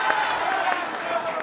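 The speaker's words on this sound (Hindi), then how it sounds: "सबसे पहले तो आपका जोरदार तालियों से एक बार फिर अभिनंदन है" Audience applause at a televised debate, a dense, steady wash of clapping from a crowd for over a second, with talk running over it.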